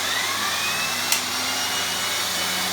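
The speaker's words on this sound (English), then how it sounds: "And I'm going to vacuum half of the carpet, the rug." Dyson V10 cordless vacuum cleaner running with its turbo brush head fitted, ready to clean a carpet rug: a steady, loud motor whine holds throughout with one brief click partway through and no talk.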